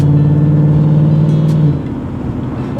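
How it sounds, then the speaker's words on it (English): The 302 V8 of a Ford Mustang hums steadily and loudly while driving, a deep even purr that eases off slightly toward the end. "Oh, listen to that. Purring the 302, absolutely purring."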